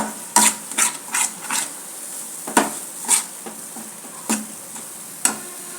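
Jilebi fish pieces frying in masala in a pan, with a string of sharp scraping and stirring clatters against the pan over a low, steady sizzle, near and fairly loud, with no talk.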